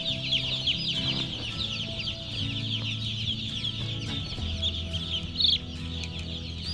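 Chickens clucking on a farm, several birds murmuring and calling continuously nearby, with one sharper squawk standing out near the end.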